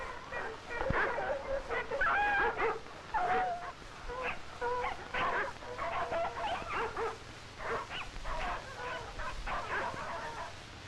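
Sled dogs on the Alaskan Northwest snow give repeated whimpers, yips and barks, moderately near and fairly steady throughout, with a faint low rumble underneath.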